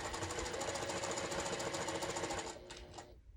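A sewing machine stitches a quilt with a fast, steady mechanical whir and needle clatter, running for about two and a half seconds before slowing and stopping with a few final clicks, close but quiet.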